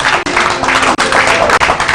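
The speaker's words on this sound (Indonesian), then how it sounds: "tepuk tangan sekali lagi yang luar biasa" A studio audience on an Indonesian TV talk show claps in a dense, continuous burst, loud and close, with a few brief dips in the noise and no clear talk.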